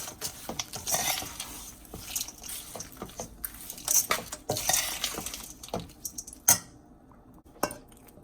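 A spoon scrapes and clinks against a pan while cooked rice is mixed with lime juice for lemon rice, giving repeated short stirring strokes at close range and moderate volume.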